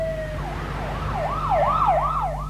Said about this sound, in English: the sound of a siren heading down Kawanga